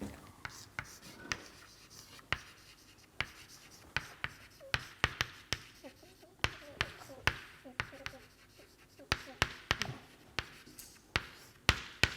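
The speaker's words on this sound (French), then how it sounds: "Donc, j'écris ici." Chalk taps and scrapes on a blackboard during a French mathematics lecture, with sharp strokes and clicks at irregular intervals, close by, and a lecturer's voice faintly in the background.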